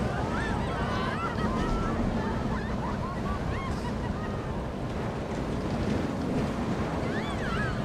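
Water splashing and rushing on a ride in the Planet Coaster video game, a dense continuous wash of spray with voices talking faintly over it.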